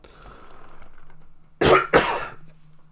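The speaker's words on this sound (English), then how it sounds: "Please excuse my inability to not cough." Two loud, sharp coughs come close together near the end, each a harsh burst from a single person, following a stretch of low, faint background hum.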